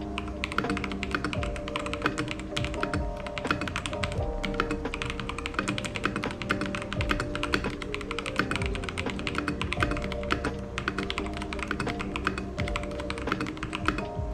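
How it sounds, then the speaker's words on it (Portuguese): Steady, continuous typing on a mechanical keyboard with yellow switches, dense rapid keystrokes clicking close up for the full stretch, with a faint tonal background hum underneath and no voices. "Vou digitar um pouquinho nele aqui pra vocês poderem ver como que é o barulhinho dele."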